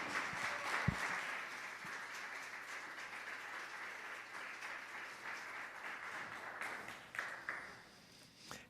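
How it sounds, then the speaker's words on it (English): Applause from a church congregation during a Sunday morning service, a broad steady wash of clapping that runs throughout, fading slightly near the end with a brief swell just before. "Shall we give her another round of applause?"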